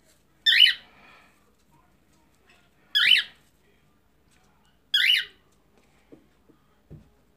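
A pet parrot wearing a flight harness gives three loud, harsh squawks spaced about two seconds apart, close by in a quiet room, followed by a few soft knocks.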